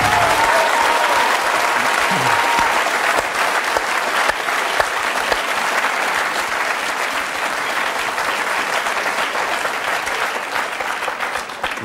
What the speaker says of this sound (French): Nous vous applaudissons